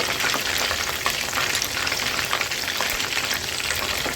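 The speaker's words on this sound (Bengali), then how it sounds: "আরও এক মিনিট চিকেনগুলোকে হাই ফ্লেমে আমি ফ্রাই করলাম" Chicken pieces for a Delhi Jama Masjid style chicken fry crackle and hiss vigorously in oil over a high flame, a dense, loud, unbroken sizzle heard up close with no voices.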